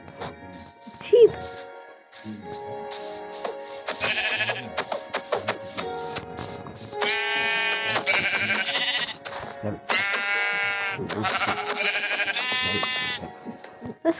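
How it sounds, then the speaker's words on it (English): Sheep in a Minecraft game bleat repeatedly in short wavering calls over a background of game sounds, with someone talking at times. "Sheep!"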